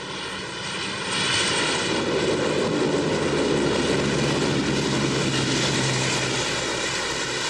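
A C-130 Hercules turboprop transport aircraft drones loudly and steadily after a brief quieter start, its propeller hum and engine whine holding close and constant without speech.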